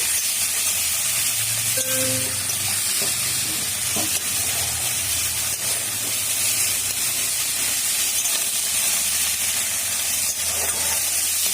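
Green banana pieces fry in a pan, hissing with a steady, close sizzle, interrupted now and then by light stirring scrapes and clinks.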